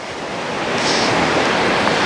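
Atlantic Ocean surf washing up a beach in the Gambia, a steady broadband roar that swells and holds loud and close for about two seconds, with some wind rumble and no voices.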